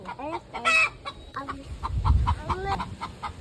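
A hen cackles near its nest after laying an egg, giving repeated clucking calls that rise and fall in an uneven rhythm close by, with a low thump in the middle.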